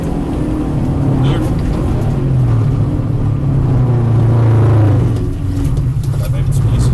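A rally car engine pulls steadily at third gear under progressive acceleration, a loud continuous rumble with rising tone, someone talking over it from inside the car.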